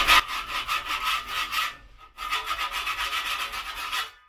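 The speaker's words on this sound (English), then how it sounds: "I'm just going to use the edge of my trowel" The edge of a trowel scrapes high spots of mortar from the joints of a microcement shower, a close, rhythmic series of gritty strokes that pauses briefly midway and then resumes.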